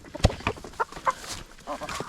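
Backyard chickens cluck in short, irregular bursts while being fed scraps, several birds close by over a soft background.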